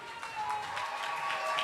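A church congregation at a thanksgiving service applauds and cheers to welcome the pastor, a steady, close wash of clapping and crowd noise with a faint sustained tone underneath throughout.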